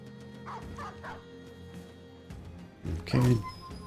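A dog in the Battle Brothers video game yelps several times in quick short cries, then gives a louder, sharper yelp near the end, over a low background hum.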